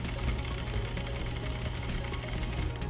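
A sewing machine stitching a sleeve into a garment runs with a steady, continuous hum and rapid needle chatter, close and uninterrupted with no talk.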